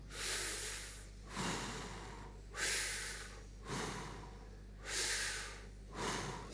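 Six slow, deep breaths drawn in and let out through the mouth, each a broad airy rush about a second long, close and steady in a guided breathing routine, with no talk.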